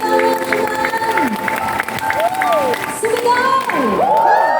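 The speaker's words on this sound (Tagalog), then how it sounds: "Mahina ang palakpak!" A church congregation claps and cheers loudly and steadily throughout, with voices rising and falling over the crowd noise at a lively praise gathering.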